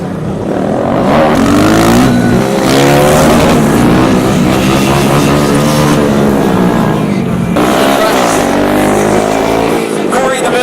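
Small Kawasaki Z125 and Honda Grom 125 motorcycles revving hard during a stunt show at an Arizona bike week, loud rising and falling engine wails with tire screech, an announcer talking over the noise.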